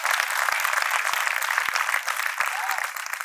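Audience at a Jain pilgrimage sangh celebration to Shatrunjaya, Palitana, clapping in a steady, dense wash of applause with scattered sharper claps, fairly close and continuous throughout.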